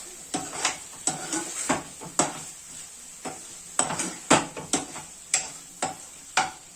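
Garlic paneer 65 being stirred in a pan, a series of sharp spatula scrapes and clinks against metal coming in irregular bursts, close and fairly loud, with no talking.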